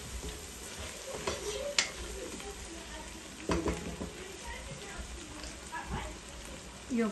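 Spices, meat and potatoes sauté in a pan for a bhuna, with a continuous close sizzle broken by occasional clinks and scrapes of stirring.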